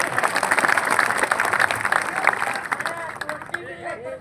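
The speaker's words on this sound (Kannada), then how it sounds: "ಸರ್ಕಾರಕ್ಕೆ ಒಂದು ಚಪ್ಪಾಳೆ ತಕ್ಕ ಹೇಳ್ಬಿಡ್ರಿ" A crowd at a farmers' gathering claps together in a burst of applause that fades after about three seconds, as a voice starts speaking.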